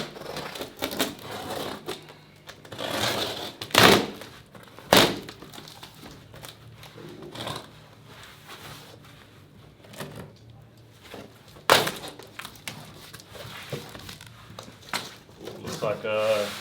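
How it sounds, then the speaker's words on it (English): Scissors cut open a cardboard box during an unboxing, with scattered sharp snips, crunches and crinkling cardboard rising from a quiet room background. "Open the box. Be safe with the scissors."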